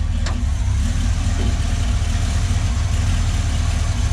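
A car engine idles steadily after carburetor work, a loud, continuous low rumble with a constant mechanical drone running unbroken throughout, no talking over it.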